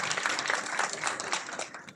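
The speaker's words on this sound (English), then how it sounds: "A big round of applause for that." Brief applause from an audience at a brain fitness technology launch event in India, a rhythmic patter of fewer hands clapping at moderate distance, uneven and slightly fading toward the end.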